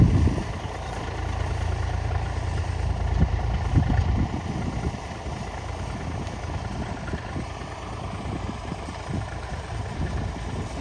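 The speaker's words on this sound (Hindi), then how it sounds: "ये देखिए इस तरह दो दो मेड़ी लेके जा रहा है ट्रैक्टर," A tractor pulling a potato digger through a field, working two ridges at a time to lift potatoes, gives a steady low engine drone that holds close and constant throughout, with no talk.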